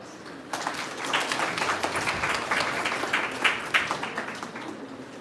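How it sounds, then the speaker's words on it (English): An audience at a memorial lecture breaks into a loud round of applause to welcome the speaker, with dense, steady clapping that begins after a brief pause and continues unbroken. "let us welcome our honorable speaker with a great round of applause"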